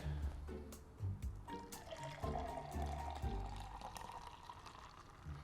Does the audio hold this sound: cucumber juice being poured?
yes